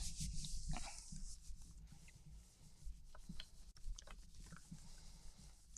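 Paper rubbed by hand over a gel printing plate to lift pink paint through a stencil, a steady close scratchy friction with broader swipes and small pauses, no talk.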